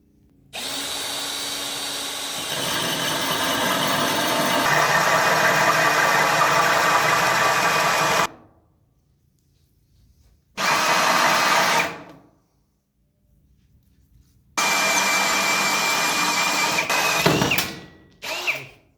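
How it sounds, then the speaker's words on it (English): A power drill with a diamond hole saw grinds loudly through a marble top, cutting a tap hole, in three long bursts separated by silent pauses. "This is a diamond hole saw, and it will allow me to drill the tap hole"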